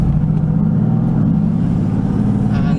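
Mercedes-AMG GT S sports car engine, loud and close, holding a steady deep droning rev with a slight dip and rise partway through, no talking.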